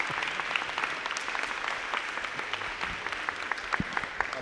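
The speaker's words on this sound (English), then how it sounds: "give the biggest round of applause to yourself for the work that you have done in this plan" An audience at a community planning presentation gives a round of applause, a steady, full clapping wash with scattered sharper individual claps and a few low thumps, continuing evenly without speech.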